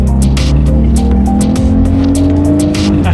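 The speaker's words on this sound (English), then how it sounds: "let's go ahead and test out the acceleration along with the paddle shifters, and we'll see how quickly we can get this naturally aspirated V6 up to speed" A naturally aspirated V6 in a Lexus IS300 F Sport pulls hard under acceleration, its loud steady engine drone rising with paddle-shifted gear changes, heard from inside the car with no talk.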